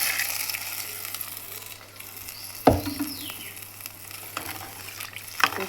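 Masala-coated kodiva fish slides into a simmering tamarind fish curry: a steady bubbling sizzle throughout, with a sharp plop and splash about halfway through and a smaller one near the end.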